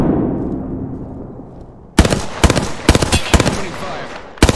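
Gunfire in the video game Apex Legends: after a moment of low rumble, a loud, close burst of automatic fire breaks out, then several more rapid, sharp bursts in quick succession.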